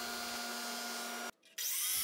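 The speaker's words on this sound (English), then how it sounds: "I flattened out both sides with the sander" A power sander whines steadily against wood, cuts out briefly, then starts up again with a brighter, harsher grind.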